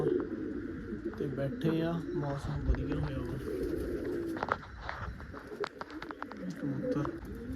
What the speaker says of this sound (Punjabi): ਕਬੂਤਰ ਬੋਲਦੇ ਆ